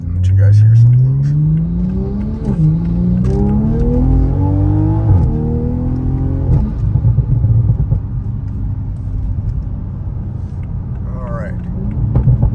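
Car fitted with a Leviathan turbo-back exhaust accelerating on a main road, loud deep engine note rising through several gears with brief dips at shifts, then settling into a steady cruising rumble.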